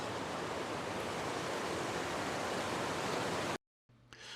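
Savage Falls pours in a steady, dense roar of falling water, loud and unbroken for several seconds before cutting abruptly to near silence, followed by a faint low hum.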